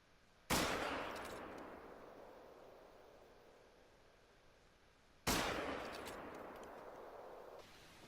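Two loud, sharp rifle shots from a .270 Huntsman, modeled on the .270 Winchester, in a hunting video game, each followed by a long fading echo across open terrain, spaced about five seconds apart.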